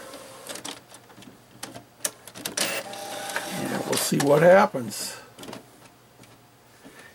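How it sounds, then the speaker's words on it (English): An inkjet printer feeding decal paper whirs and clatters as it prints a logo, a series of mechanical shuttling bursts with a short louder motor passage, heard close under a man's speech. "And so I'll swing you down here to my printer."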